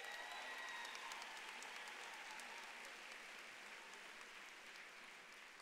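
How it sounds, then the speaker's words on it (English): Sustained applause from a graduation ceremony audience after an award for excellence in dance, a steady wash of clapping at moderate distance with no talk over it. "Give them one more big round of applause."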